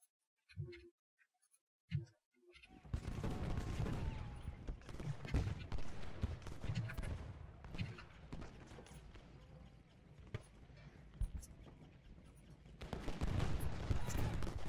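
Musket and rifle volleys from the Civil War strategy game Ultimate General: Gettysburg, a dense rolling crackle of distant gunfire that follows a few isolated shots and swells again near the end.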